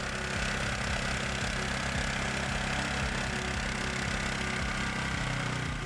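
A Tofalar motorized sled's injection engine runs steadily at a constant pace, a dense, even mechanical hum with no voices.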